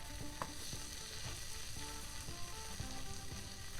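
Clams sizzle and crackle in a frying pan, a continuous bright spitting hiss with scattered pops and scraping bumps as they are flipped, heard close up and without speech.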